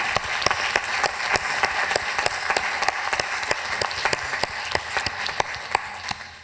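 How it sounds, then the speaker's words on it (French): Audience applause at a national conference on digital transition, a steady spread of many hands clapping with distinct sharp claps, moderately close and continuous for several seconds. "je voudrais qu'on vous applaudisse tous, que vous vous applaudissiez pour votre engagement"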